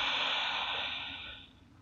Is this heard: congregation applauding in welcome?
no